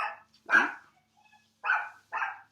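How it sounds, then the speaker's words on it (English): A small dog gives four separate sharp barks with short pauses between them, close and clear against an otherwise quiet background. "there's another little dog"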